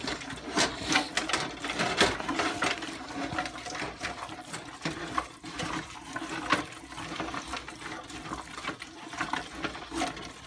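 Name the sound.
stirring onion, peppers and celery in pot for jambalaya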